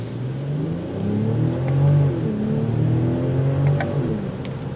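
A 2022 BMW X7 SUV in sport mode pulls away on a road, its engine rising in a steady revving acceleration heard from inside the cabin, a continuous mid-pitched drone swelling and holding with no talk.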